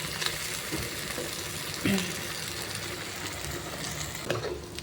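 Dried fish frying in a small wok, a steady crackling sizzle throughout with a few louder pops and stirring scrapes near the two-second mark and again near the end, close and continuous with no talk.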